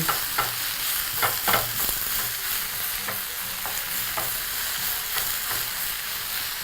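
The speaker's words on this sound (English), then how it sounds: "And then just proceed to toss everything together in the pan." Matumbo (tripe) and spinach tossed and stirred together in a frying pan, with a steady sizzle and repeated scraping, clattering strokes of a utensil against the pan, close and alone with no talking.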